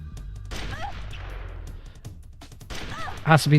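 Gunfire in the video game Metal Gear Solid: The Twin Snakes, a few sharp shots popping amid game sound effects, with a person talking over it.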